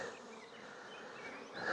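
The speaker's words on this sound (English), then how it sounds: "Look at all the bees. Lots of bees in here." Bees swarming at a nest make a steady, dense buzzing drone, faint and even throughout with no voices.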